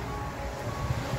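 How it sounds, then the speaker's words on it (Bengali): Rain falls outdoors in London, a steady, even hiss of moderate loudness with no voices over it during this short stretch. "দেখুন কি বৃষ্টি।"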